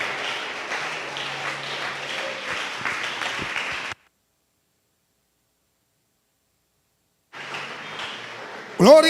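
A church congregation claps during a sermon, a dense wash of applause that cuts off abruptly into silence, then resumes more faintly before a sharp rustle at the end.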